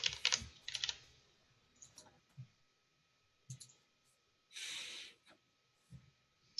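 Scattered keyboard typing with clicks and a few short key bursts on a computer keyboard, close but quiet, separated by pauses and a soft breathy noise, no clear speech.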